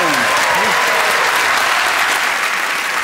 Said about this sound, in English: Round of applause for my mum,